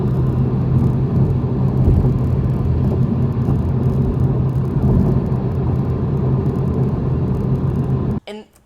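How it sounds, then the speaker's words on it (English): Inside a moving 2020 Toyota Supra, a steady low road rumble and drone with a buzzing rattle from the door locks underneath, continuous and close, ending abruptly with a brief voice at the end. "These locks right here, it rattles and it makes this really, it's just really obnoxious buzzing sound."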